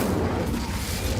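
An Incendio fire spell from Hogwarts Legacy roars as a loud, sustained fiery whoosh with booming low rumble, steady and alone throughout.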